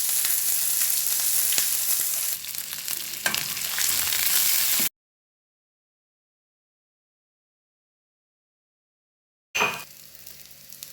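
Ginger, green chillies, curry leaves and shallots sauté in hot oil with a close, hissing sizzle and occasional stirring scrapes. The sizzle cuts to near silence midway, then returns briefly at the end.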